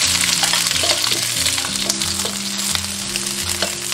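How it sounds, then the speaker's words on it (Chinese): Ginger, garlic and green and red peppers stir-fry in a little cooking oil in a wok, a loud, continuous sizzle with scraping stirs, under background music. "一起一锅倒入少量食用油，接着下入姜蒜炒香，炒香以后下入青红椒"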